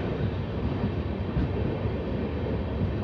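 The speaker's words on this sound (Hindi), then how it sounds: "ट्रेन जो है वो पहुंच रही है Puranpur calling on signal platform number एक पर" The Lalkuan–Howrah train pulls into platform one at Puranpur on a calling-on signal, heard as a steady, even rumble of rolling wheels and carriage noise, moderately loud with no distinct horn or talk.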